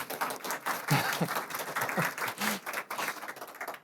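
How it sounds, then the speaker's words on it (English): A small audience at a talk in Lithuania claps briefly and unevenly, a light, sparse patter with a few louder individual claps, fairly faint throughout. "thank you for the small applause"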